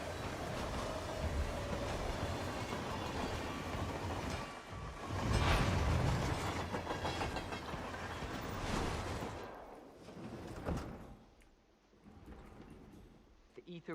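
A train in Hitman 3 rolls along with a steady rumbling clatter that swells to a louder burst midway, then fades and thins near the end, while a voice talks over it.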